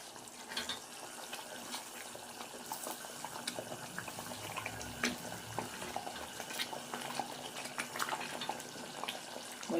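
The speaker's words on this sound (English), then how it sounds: "I'm just going to allow it to boil until we start seeing oil." Coconut milk boiling in a pot on the stove while being cooked down into coconut oil, with a steady busy bubbling and spattering texture and small pops throughout, fairly close and moderately quiet.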